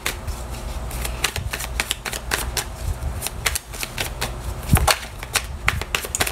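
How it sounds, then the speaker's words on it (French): A deck of tarot cards is cut and shuffled in a French astrology reading. Sharp, rapid card snaps and riffles come in irregular bursts, close and fairly loud, with no talk over them. "Je vais donner la carte après, hein, parce que je vais faire la coupe."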